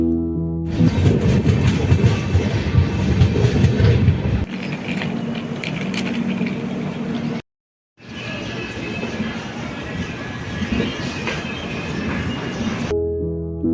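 A train rumbles into Bagdogra station with rhythmic clatter of wheels on track, loud and close, broken by a short silent gap before the rolling noise resumes.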